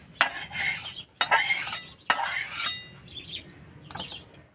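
Besan chilla batter being stirred with ginger paste, salt and ghee-fried turmeric, heard as three close bursts of scraping spoon strokes against a bowl, then softer clinks after a pause.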